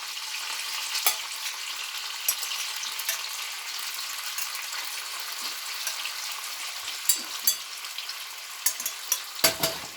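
Gluten-free buckwheat noodles and asparagus toss in a hot frying pan, giving a steady close sizzle and fry with light intermittent knocks and scrapes as the pan is shaken and stirred.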